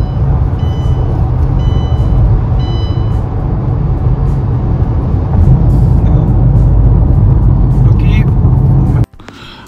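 An MG Windsor EV electric car accelerates hard to overtake on the road in sports mode. Loud, constant low road and tyre rumble with a faint motor hum runs under someone talking throughout, then cuts off abruptly near the end.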